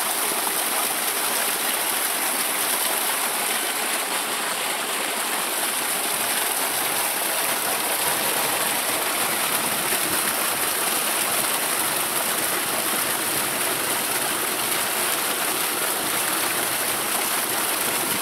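Water gushes out hard and continuously from a solar-powered tube well pipe, a dense, hissing rush with no breaks or voices.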